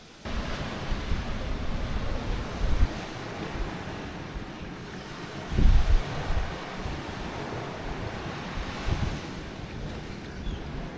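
Waves breaking on the beach at Little Corn Island, Nicaragua, with a constant wash of surf and gusty wind buffeting the microphone, occasional louder rumbling surges.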